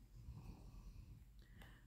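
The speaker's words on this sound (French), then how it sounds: "Tu ronfles mon gros." A dog named Marty snores softly right beside someone, lying outside his basket, with rough low breaths and a brief snort near the end.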